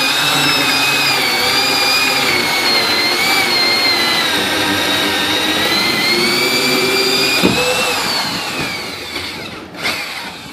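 A heavy-duty Hole Hawg drill whines steadily at high pitch while drilling a hole for a gas line, its tone wavering under load, then winds down near the end with a couple of clunks.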